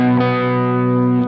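A distorted electric guitar chord rings out loud and sustained through an effects unit, thick with harmonics, and is held steadily before cutting off.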